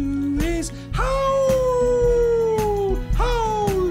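A dog howls in long, rising and falling wails over steady musical backing in a live-action children's show, with several drawn-out howls across the stretch.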